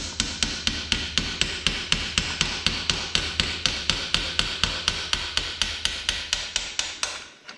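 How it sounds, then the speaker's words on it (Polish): A hammer strikes a stuck locknut on a children's bicycle, delivering a steady run of about thirty sharp, evenly spaced metallic blows at close range with no talk. "A może spróbujmy naszym młotkiem."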